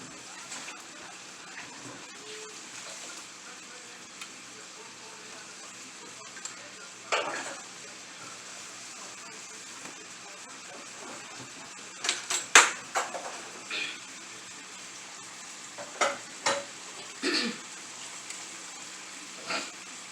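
Cajun steak and shrimp cooking in a single pan, a steady soft sizzle running throughout, with a few louder clinks and scrapes of utensils and pan handling toward the end, close up and without talk.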